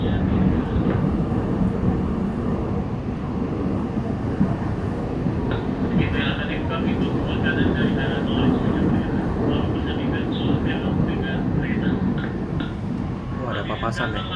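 An Indonesian-built KRL INKA CLI.22 electric commuter train runs toward Jatinegara station, a steady low rumble and rolling rail noise heard from inside a car, with faint higher squeals and clatter on top.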